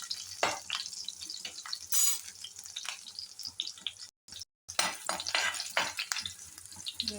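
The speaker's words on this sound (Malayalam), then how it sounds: "ആദ്യം പച്ചമുളക് വറുത്തിട്ട്" Green chillies fry in a pan for a Kerala ripe-banana pulissery, giving a steady bright sizzle with bursts of stirring and scraping, loud and close, with a brief silent gap partway through.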